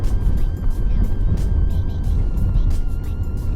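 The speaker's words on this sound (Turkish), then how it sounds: "Araba kendi rolantide gidiyor." A Mercedes S320L rolls along at idle without throttle, giving a steady low engine and road rumble from inside the cabin, with no talk.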